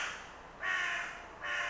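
A crow cawing sound effect from a horror board game app, two drawn-out harsh caws separated by a short pause, clear and isolated with no talking.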